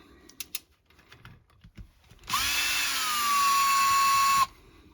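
Small screws are backed out of the top of a Quadrajet carburetor: a few light taps and clicks, then a powered driver whirs steadily for about two seconds close by before stopping.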